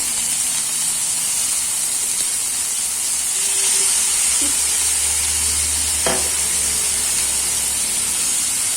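Garlic paste sizzles as it hits hot oil in a pan for restaurant-style soya chilli, a steady close frying hiss throughout with a brief sharp crackle burst midway.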